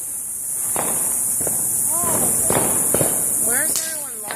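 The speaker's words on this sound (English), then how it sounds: "Wow, we just saw some fireworks." Fireworks bursting outdoors in a quick irregular series of sharp cracks, with rising whistles near the end over a constant high hiss, while people talk and exclaim throughout.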